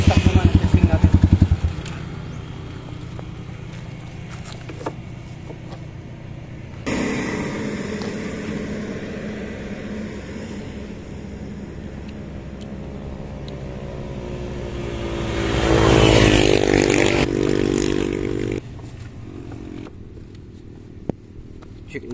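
A stock Rusi KRY 200 motorcycle accelerating in a top speed run, its engine drone rising and falling with a surge and heavy wind noise midway, loud and close throughout.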